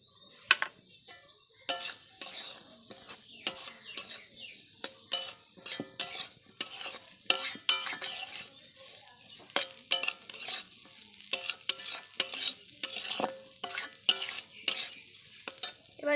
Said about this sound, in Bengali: এরপর আমরা এর মধ্যে কারি পাতাগুলো দিয়ে দেব।